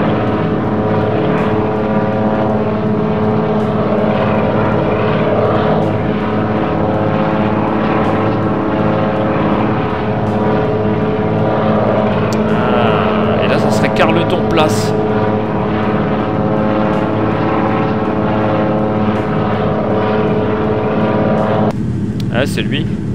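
A DHC-2 Beaver propeller plane in the X-Plane 11 flight simulator drones steadily and loudly throughout, a constant engine hum with brief clicks and a short tonal change near the end while someone talks over it.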